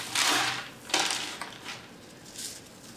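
Coconut fiber and tepojal substrate mix being stirred by hand, giving several short gritty rustling scrapes in uneven bursts, close and fairly soft, with no talk.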